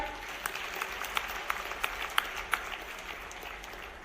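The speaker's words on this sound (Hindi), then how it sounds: "आप लोग उसी अनुपात में जोरदार तालियां भी बजाएं।" Audience at a panchayat conference claps in a short, moderate burst of applause that rises with a few sharper claps and then fades out.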